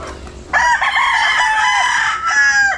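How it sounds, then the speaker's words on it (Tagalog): A single loud rooster crow rings out close by, drawn out over a couple of seconds, with a quieter crow starting at the end. "Ganda ng manok ni Kuteri"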